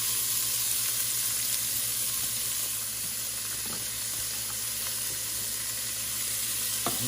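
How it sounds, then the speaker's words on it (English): Onions soften in a little oil for homemade tomato soup, giving a continuous bright sizzle with occasional soft clicks of stirring, close and even throughout, with no talking. "so we got our onions softening up"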